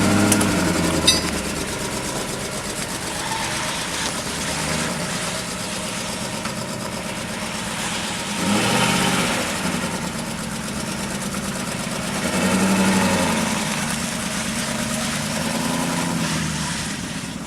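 A 2002 BMW 540i E39 V8 idles steadily just after its first start, a continuous mid-low engine hum with slight swells in revs, recorded close by without talk.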